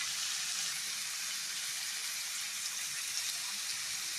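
Cluster beans sautéing in a pan with tomato and a pinch of rock salt give a steady, even sizzle and crackle throughout, with no voices.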